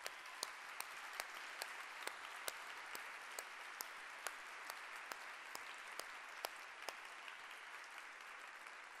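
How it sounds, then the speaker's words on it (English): An audience at a children's peace prize ceremony applauds with a soft, distant wash of clapping, punctuated by evenly spaced sharper claps that keep a steady rhythm throughout. No voices stand out. "another round of applause"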